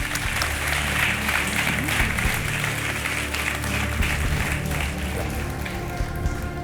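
A studio audience claps continuously, a dense, even applause that stays loud and steady throughout with no talking.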